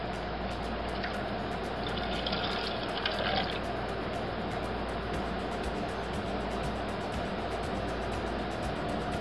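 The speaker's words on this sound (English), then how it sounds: "let's measure out 2 cups milk. And put it in our saucepan." Two cups of milk are poured into a saucepan, giving a soft, continuous liquid trickle and splash close by over a steady background hum.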